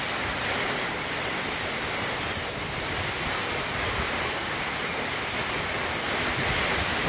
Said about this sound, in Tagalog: Grabe hangin na to.